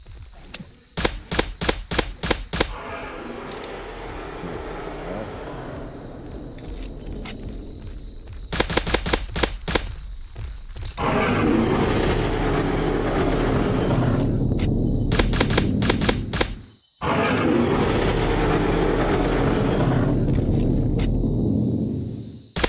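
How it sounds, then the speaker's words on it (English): Bursts of rapid video-game gunfire aimed at a dinosaur ring out in a survival game, short rattling volleys early on giving way to long sustained stretches of loud automatic shooting. "Alright, you can start shooting it."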